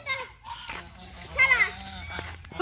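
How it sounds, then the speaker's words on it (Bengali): Several geese honk as they pass behind, with short nasal honks rising through a nearby conversation, moderately close. "ও পিছনে অনেকগুলো রাজহাঁস যাচ্ছে"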